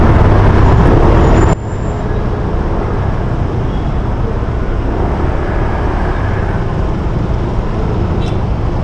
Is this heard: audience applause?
no